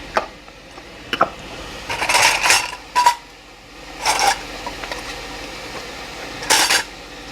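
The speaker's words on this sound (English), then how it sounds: "Now we can put the lids on." Metal canning lids clink and scrape as they are set onto jars of tomatoes for water bath canning, a few short clattering bursts with quiet pauses between, close by and without talk.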